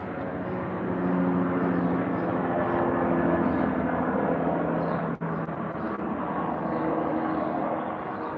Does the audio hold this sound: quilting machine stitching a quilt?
no